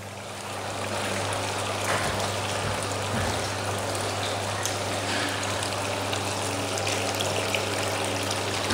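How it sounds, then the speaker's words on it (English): A protein skimmer runs in a shark aquarium tank: a steady, close, continuous water gush with a low pump hum underneath, unbroken from start to finish. "So the protein skimmer is working very well."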